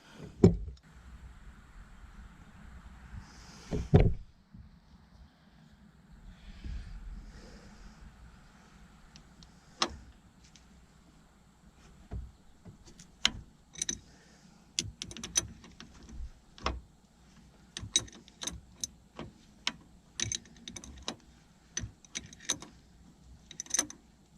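The bottom of a Mercruiser mechanical fuel pump gets unscrewed by hand, a run of sharp metallic ticks and clicks, sparse at first and then coming faster, with light scraping in a quiet space.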